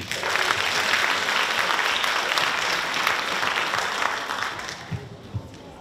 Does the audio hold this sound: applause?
yes